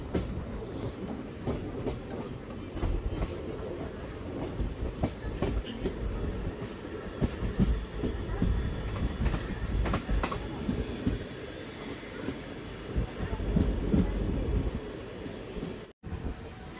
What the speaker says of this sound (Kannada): ನಮ್ಮ ಟ್ರೈನ್ ಈಗ ಪ್ಲ್ಯಾಟ್ಫಾರ್ಮ್ ನಂಬರ್ 2 ಹೊಳಲ್ಕೆರೆ ರೈಲ್ವೆ ಸ್ಟೇಷನ್ಗೆ ಎಂಟ್ರಿ ಆಗ್ತಿದೆ.